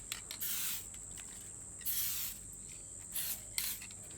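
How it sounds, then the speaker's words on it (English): Spray adhesive hissing from an aerosol can onto a surface for a DIY entry table, several short bursts of spray separated by pauses, close and clear with no talk. "we're going to take the spray adhesive and just spray it on"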